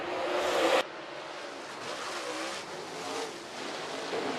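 Late model race cars on a dirt speedway at the start of a heat race make a distant, washy engine roar that swells and fades, faint and steady after a brief louder burst at the start.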